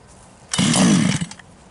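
A gas-powered Rovan RC car engine catches after being choked and primed, then revs in a loud, raspy two-stroke burst lasting under a second before dropping back, up close.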